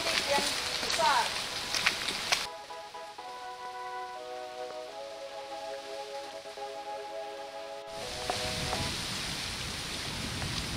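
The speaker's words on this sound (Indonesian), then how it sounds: "Ini dalam keadaan rintik ini. Rintik-rintik yang besar." Light drizzle falls outdoors on the 300-step hillside stairway at Mando'o, Rote Ndao, with mist around, heard as a soft continuous hiss of rain that fades during a stretch of music and then returns.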